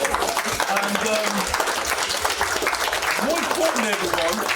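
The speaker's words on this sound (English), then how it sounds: "Can you give a fantastic round of applause?" An audience at a book event gives a round of applause, a dense, steady wash of many hands clapping that lasts several seconds. Voices and murmured chatter blend into it.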